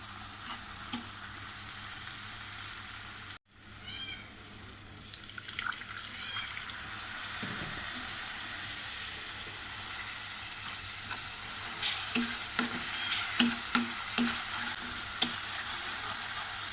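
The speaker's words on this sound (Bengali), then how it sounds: "মিষ্টি কল দিয়ে মুরগির মাংস রান্না করবো" Continuous sizzling of chicken cooking in a pan, with occasional scraping and clinks of stirring, no voices.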